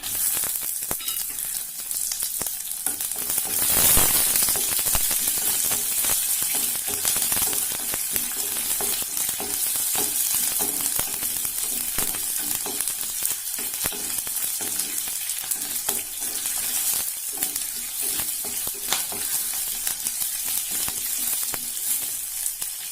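Curry leaves and small shallots fry in hot oil for a snake gourd thoran, a loud, steady, close crackling sizzle with occasional sharper pops and a stirring scrape, running on without speech.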